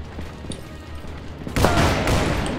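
A gunshot in the Call of Juarez video game: a quiet rumbling bed, then a sudden loud blast with a booming tail, followed by a second burst.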